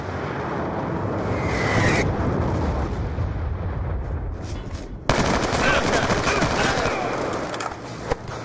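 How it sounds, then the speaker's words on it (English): A Hellstorm missile strike in Black Ops 2 sounds as a loud sustained roaring rumble of explosions and rapid gunfire, with a sharp blast midway and continuing heavy bursts after it. "Hellstorm missile inbound"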